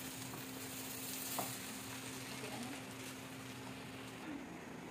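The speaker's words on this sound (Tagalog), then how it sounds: "Habang nililipat siya, kailangan halu-haluin para hindi magdikit yung ating malagkit." Sautéed sticky rice for chicken arroz caldo sizzles steadily in a pan as it is stirred and transferred to a pot, a continuous soft frying hiss with faint scraping, no talk over it.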